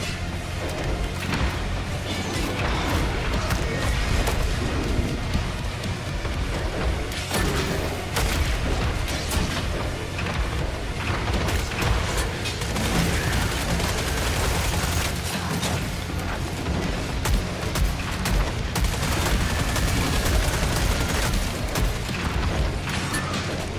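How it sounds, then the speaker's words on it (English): An automated turret pounding a boss in the Killing Floor shooter game: dense, relentless rapid firing and booming impacts that stay loud and steady throughout, with no break in the barrage. "the turret's doing some pretty good damage to him"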